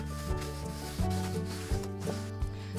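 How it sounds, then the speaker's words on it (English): Scouring pad rubbed over a timber picnic table to clear salty residue, producing a close, steady rasping scrub with a few stronger strokes, alone and without talk. "just use a little scouring pad and rub it off"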